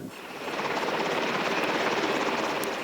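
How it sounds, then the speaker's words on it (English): An Apache AH-64A attack helicopter flies during the 1999 Kosovo deployment, its loud, continuous rotor and turbine roar building quickly and then holding steady and close. "Which puts the 24 Apache A-64A attack helicopters on center stage. Almost arrogant in their mid-air elegance."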